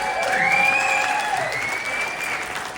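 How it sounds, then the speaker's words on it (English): An audience at the Improv comedy club in Houston applauds steadily throughout a stand-up set. The clapping is loud and dense, with a faint whistle-like tone riding over it. "Patrick, they're clapping for you"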